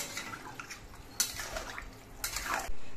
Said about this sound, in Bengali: এবার এর মধ্যে আমি ঝোল দিয়ে দিচ্ছি।